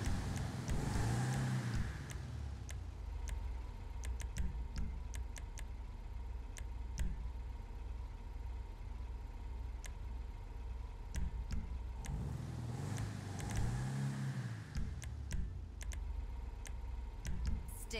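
An old classic van's engine runs at a low, steady idle, faint and rumbling, with scattered ticking clicks over it and a couple of louder swells.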